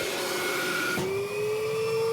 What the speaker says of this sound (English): That vacuum really has some suction power.